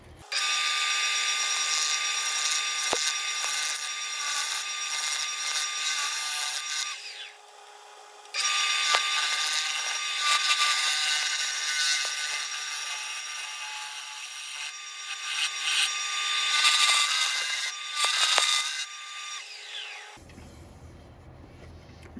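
A big elm wood piece being hollowed out, giving a steady, loud, continuous scraping and cutting sound with a short lull partway through, then stopping near the end.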